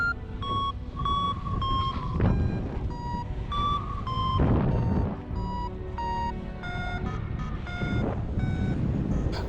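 A paragliding variometer's rapid electronic beeps chirp in short bursts, rising and falling in pitch, over steady rushing wind noise.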